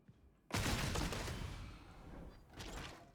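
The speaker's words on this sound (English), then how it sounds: "if you're new and don't know what I mean by mag dump" A magazine is dumped in rapid, continuous automatic fire in Warhammer 40K: Darktide, a dense burst that starts abruptly, tails off, then picks up again briefly near the end.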